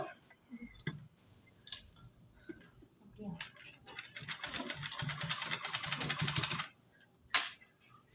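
A sewing machine stitches piping onto a neckline in a steady, rapid, rhythmic run lasting several seconds, with a person talking softly before it starts and over the stitching.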